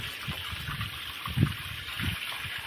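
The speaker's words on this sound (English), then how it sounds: "Finally putting some water in." Water pouring into a newly built modern garden pond with a window, a steady low gushing wash with a few louder splashing surges, moderately close and with no talking.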